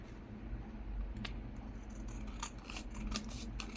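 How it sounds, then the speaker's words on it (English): Scissors trim a thick paper craft piece with a mushroom shape, making a few close, crisp snips over a quiet room hiss, with no one talking. "I'm just gonna trim this a little bit now"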